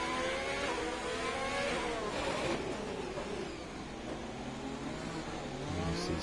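An F1 2020 race car engine in a Singapore Grand Prix video game race screams and revs continuously while the wheels spin out of a tight hairpin, loud and close, the pitch rising and falling.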